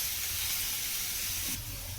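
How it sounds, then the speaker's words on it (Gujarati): Chopped onion and garlic sizzle steadily in hot oil in a home kitchen, giving a continuous soft hiss with no talking over it. "આ જે અંદર એડ કરેલું છે ડુંગળીની, એ તેલમાં આપણે એડ કરી છે"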